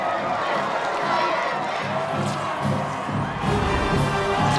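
A large crowd of extras cheers, whoops and shouts without pause on the set of Spider-Man 3 during filming. The roar is loud and dense, swelling slightly near the end.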